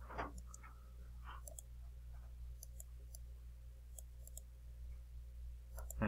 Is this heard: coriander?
no